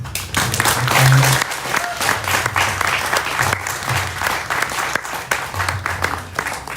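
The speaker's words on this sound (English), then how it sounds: "With that, we'll have a big round of applause" Gathered audience at a kirtan and spiritual talk featuring Jayadvaita Swami gives a big round of applause, loud continuous clapping that swells early and stays steady, with a few voices mixed in.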